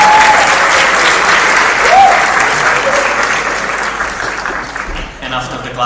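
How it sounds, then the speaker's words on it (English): Audience at a council general assembly meeting breaking into sustained applause, a dense wash of clapping that gradually fades before a voice speaks at the end. "You may applaud."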